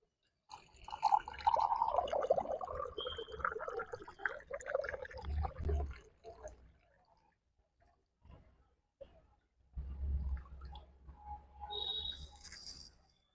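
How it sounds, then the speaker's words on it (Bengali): Cold water is poured into a hot magic mug, with uneven splashing and trickling bursts in two main spells separated by near-silence, close and fairly faint, with no talking. "তো আমি ঠান্ডা জলটা এর মধ্যে দেব"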